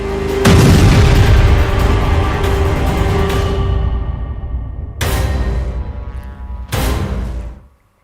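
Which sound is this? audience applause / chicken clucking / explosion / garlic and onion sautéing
explosion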